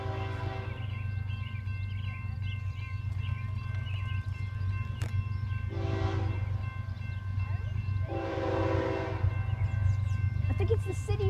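A CSX or Citi Rail locomotive passes close by with a loud, steady low rumble and a sustained tonal hum, while people speak briefly over it.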